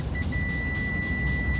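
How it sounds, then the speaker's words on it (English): A truck's low air pressure warning buzzer sounds as one continuous thin, high beep. It holds steady over a low engine rumble and rhythmic pulsing noise in the cab. "Now my warning light and buzzer came on."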